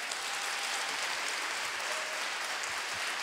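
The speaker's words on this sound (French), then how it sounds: "Sous vos applaudissements et votre ovation" Audience at a national eldercare congress award ceremony applauds a prize winner, a steady, even wash of clapping from many hands at moderate volume.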